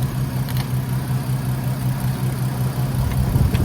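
A Volkswagen MK5 Golf R32 idles in a home driveway, a steady, loud low engine hum with a faint repeating pulse throughout and no talking.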